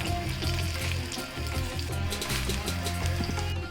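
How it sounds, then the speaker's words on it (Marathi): Fand bhaji vadas, a wild leafy vegetable in thin slices, frying crisp in hot oil, a dense continuous sizzle and crackle heard up close with no voices. "बारीक ती खरपूस अशा वड्या तळून घ्यायच्या"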